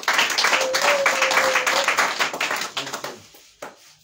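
A church congregation in Ebolowa, Cameroon, claps and cheers together in praise. The dense, loud applause fills the space, then thins out toward the end into a few scattered claps.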